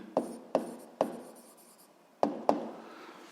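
Pen or chalk writing out a spring-force physics formula, five sharp taps and short scratchy strokes in an uneven rhythm, close and fairly quiet, separated by near silence.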